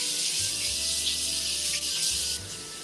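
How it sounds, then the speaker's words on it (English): Tap water runs steadily from a kitchen faucet to rinse store-bought crab meat for seafood lasagna roll-ups, a close, continuous hiss with a brief break near the end. "let's wash this off"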